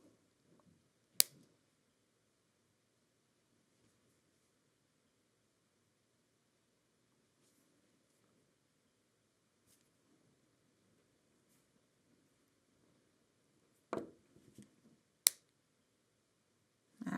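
Cutters trim jewelry wire where a wrapped loop crosses on a Swarovski crystal earring. There are a few sharp, isolated snips, one early and two close together near the end, in a quiet room.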